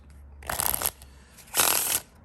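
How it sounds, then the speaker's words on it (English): Two quick riffle shuffles of playing cards, each a crisp flutter of rapid card flicks lasting under half a second, close up with no talking. "In the hand riffle shuffles"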